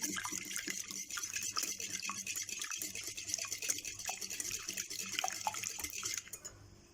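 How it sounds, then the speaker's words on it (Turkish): Eggs are whisked in a mixing bowl, a quick, faint, rhythmic clatter of the whisk against the bowl. The sound stops just before the end. "Yumurtaları çırpıyorum."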